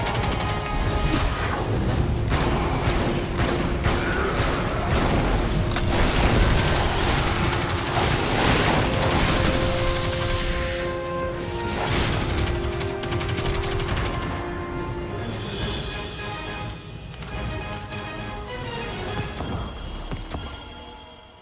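Submachine gun fire in a video game with a self-reloading weapon, dense rapid bursts of shots running continuously and loud, fading out toward the end.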